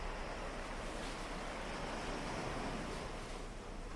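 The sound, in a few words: sea waves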